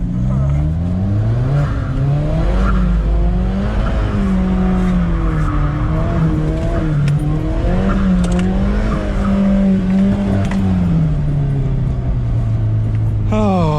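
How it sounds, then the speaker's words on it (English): Alfa Romeo 4C doing donuts on an empty airport runway: loud engine revving in rising and falling waves, with tires squealing and a voice talking over it throughout. "Oh, a bit of donuts."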